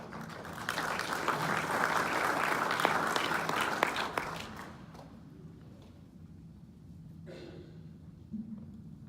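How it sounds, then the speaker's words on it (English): Audience applause at a congressional candidate forum, a full burst of many hands clapping for several seconds that tapers off into scattered claps, shuffling and quiet room noise. "we need to applaud all the women who have come forward"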